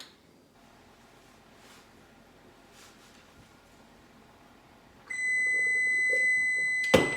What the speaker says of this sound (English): I better turn this buzzer off before it drives me nuts.